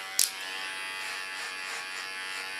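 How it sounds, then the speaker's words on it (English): An electric hair clipper runs over a comb while cutting hair, giving a steady close buzz throughout with one brief sharp click near the start. "And also the sound from the Clipper. on the comb."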